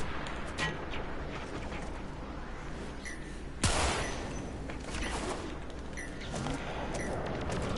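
Enemy gunfire in Warframe: a sudden sharp blast stands out once midway through a low, busy game backdrop, with faint scattered shots around it.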